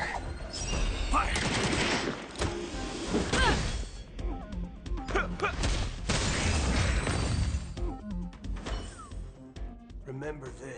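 A volley of gunfire in a video game sounds as dense bursts of shots and crashing impacts, loud and close, with voices talking over much of the barrage.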